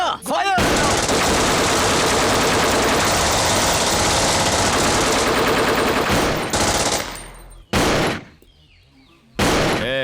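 Dense, loud automatic gunfire in a Hindi-dubbed South Indian action movie, a sustained rapid burst for several seconds, then a pause and two short further bursts separated by near silence.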